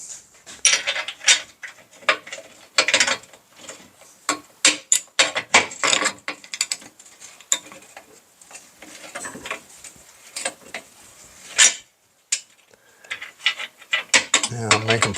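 Rapid clicking of a ratchet wrench tightening a bolt with a 13 mm socket, repeated ratcheting bursts in quick strokes, close and fairly loud, with brief pauses between strokes.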